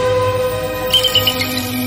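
A bird chirps in short high bursts over a steady musical background in an animated fairy-tale scene, clear and fairly loud with no talking.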